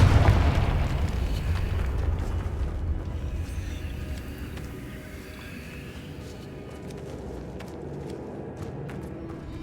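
A Confringo fire-blast spell explosion in Hogwarts Legacy, a loud low boom at the start that decays into a long rumbling roar and fades over several seconds.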